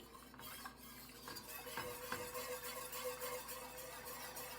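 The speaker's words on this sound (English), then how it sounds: "And I'm using a whisk. Gradually adding in my flour." A whisk stirring flour into a cup of oil for a seafood gumbo roux over a low flame, a steady soft scraping and swishing with faint sizzle, continuous and fairly quiet with no talking.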